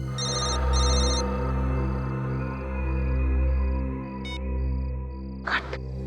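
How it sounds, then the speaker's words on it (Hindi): Telephone ringing in a television crime drama scene, repeated bursts of bright electronic ring tones over a steady low hum, with a brief rustling noise near the end. "उस तरफ से आवाज आ रही है फोन की।"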